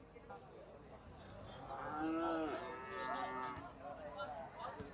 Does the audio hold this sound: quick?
no